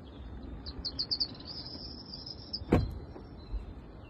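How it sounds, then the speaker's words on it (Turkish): Forest birdsong played through the Skywell ET5 car's sleep mode: a quick run of chirps, then a thin sustained trill, with a brief thump partway through. "otomobil şarj olana kadar burada 1 saat kuş sesleri eşliğinde uyuyabiliyorsunuz."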